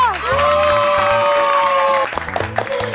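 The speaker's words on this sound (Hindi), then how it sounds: "जोरदार तालियां" Loud applause and cheering from a studio audience at a Hindi family comedy show celebrating a brother-in-law's win, with music tones swelling alongside, then dropping into scattered claps and shouts near the end.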